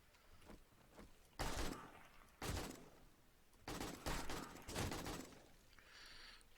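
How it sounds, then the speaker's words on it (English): Gunshots in the 7 Days to Die video game, fired at an approaching enemy in the cold, with a few loud separate bangs and bursts standing out over quieter background noise. "Trying to shoot him in the head, it's not working."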